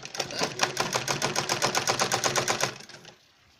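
A sewing machine stitches a zip pocket onto a bag, running in a fast, even clatter of needle strokes for about three seconds, close and moderately loud, then stopping abruptly.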